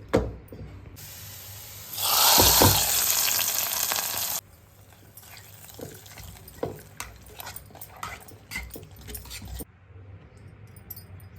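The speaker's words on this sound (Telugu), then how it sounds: "ఇప్పుడు తాలింపు వేసుకోవాలి" Hot oil crackles and sizzles loudly for a couple of seconds as tempering spices go in for fenugreek-leaf dal, then settles into softer scattered pops and clinks of cooking.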